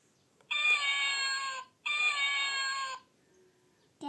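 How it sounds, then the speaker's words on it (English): Two long, clear cat meows in a row, each drawn out for about a second, close and loud against a quiet background. "Cat."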